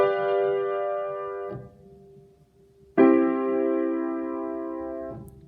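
An authentic cadence in root position rings out on piano as two sustained chords, the first held and fading, then after a brief pause a second louder chord that also decays slowly, with no talking.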